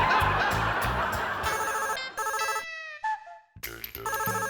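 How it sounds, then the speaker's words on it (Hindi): A telephone rings in a home, its electronic ringtone repeating in loud, evenly spaced bursts with a brief gap of quiet partway through. "फोन उठा लो।"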